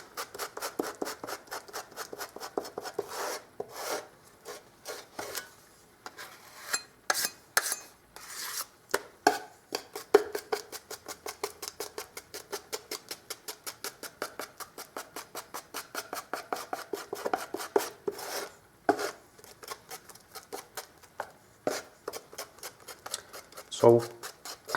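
Valspar wall paint in the colour Cool Pendant being mixed into filler, a run of repeated scraping, clicking strokes of a tool in a container, steady and close over about twenty-five seconds with brief pauses.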